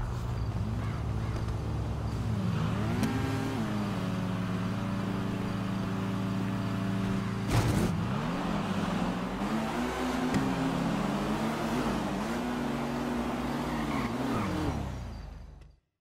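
Racing cars in the GTA 5 video game roar side by side with their engines revving up and shifting. A boost kicks in around the middle, and the sustained loud engine drone continues until it cuts off abruptly.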